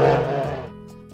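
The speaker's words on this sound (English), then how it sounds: "Bear." A single low, rough bear growl sounds close and fairly loud, then tapers away over about a second with nothing else heard.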